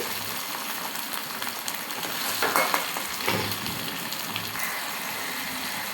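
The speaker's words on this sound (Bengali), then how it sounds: "জিরা বাটা, এটা একটু ভালোভাবে ভেজে নেব" Cumin paste fries in a pan with a steady, close sizzle, joined by occasional scraping stirs that briefly swell the hiss.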